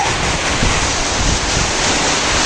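Strong wind on a rainy day gusting across the microphone outdoors, a loud, dense, continuous roar with no breaks and no talking.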